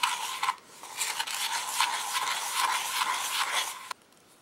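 Thick baking soda texture paste being stirred and mixed in a bowl, a steady soft scraping and rubbing that runs continuously, close and fairly quiet, with no talking.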